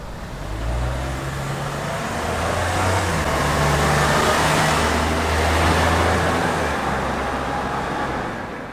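Stock muffler exhaust on a Suzuki Jimny 3BA-JB64W at low speed, a steady low engine drone with a faint hum, fairly close and loud, continuous and without talk.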